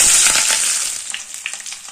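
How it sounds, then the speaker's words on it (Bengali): Pre-fried vegetables are tipped into sizzling tempering in a pan, setting off a loud burst of frying that gradually settles into a softer crackle with scattered pops; no speech. "এবার আগে থেকে ভেজে রাখা সব সবজিগুলো ঢেলে দেবো।"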